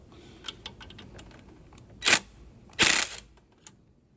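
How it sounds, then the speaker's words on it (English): An impact wrench with a 12mm socket loosens a bolt on the alternator of a 2011 Toyota Highlander, giving two loud brief rattling bursts close by amid faint clicks and handling noise. "I just loosened it with my impact is all"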